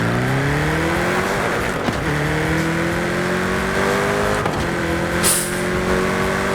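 Engine note of a 2019 Jaguar XE SV Project 8 with 592 horsepower in Forza Horizon 5, a loud, continuous, close engine roar rising through the revs. Gear changes interrupt it twice, and a brief tire squeal cuts in near the end.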